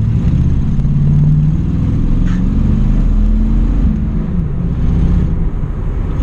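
A second-generation Pontiac Firebird Formula muscle car drones with a loud, close, steady engine roar, rising and easing slightly as it revs, with no talking.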